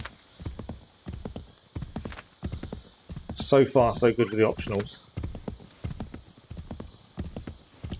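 Horse hooves clip-clop in steady rhythm through a ride in Assassin's Creed III Remastered, with a brief neigh and louder galloping in the middle, while someone talks over it almost throughout.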